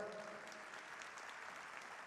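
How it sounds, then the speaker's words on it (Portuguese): Faint, distant-sounding applause from a youth church service congregation continues evenly throughout, with no voices over it. "uma salva de palmas para ela."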